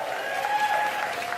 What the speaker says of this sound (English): My round of applause.